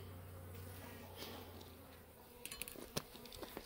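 Honey bees from a newly installed package buzz in a dense, continuous hum close by, with scattered taps and rustles joining in the latter half.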